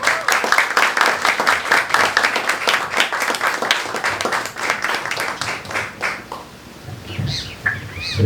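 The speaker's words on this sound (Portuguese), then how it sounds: "uma salva de palmas" An audience at a community communication panel discussion applauds. The clapping is dense and sustained, close and loud, fades over about six seconds, and is followed by a few scattered sounds and stirring.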